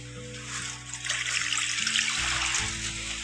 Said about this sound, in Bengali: এখন আমটা সিদ্ধ করার জন্য জলটা দিয়ে দিচ্ছি।